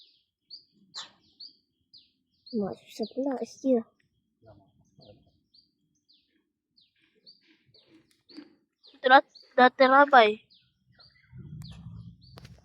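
Birds chirp in a rural kampung in Parit Tok Hin, Kuala Kurau, Perak: short, sharp tweets that repeat sparsely through the scene, with people talking in between and a low rumble near the end.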